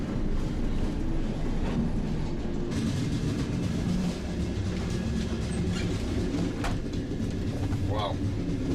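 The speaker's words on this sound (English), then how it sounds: "Check this out, a real Soviet electrichka" Steady rumble of a Soviet-era electric commuter train in motion, heard from inside a carriage, with faint voices and occasional rattles over the continuous rolling noise.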